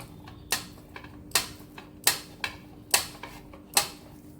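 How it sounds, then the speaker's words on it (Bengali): Block of paneer rubbed against a metal grater in a home kitchen: a steady rhythm of crisp scraping strokes, about one per second, close and fairly clear, with faint ticks between strokes and no talking. "এই পনিরটাকে আমি গ্রাটে করে গ্রেট করে নেব।"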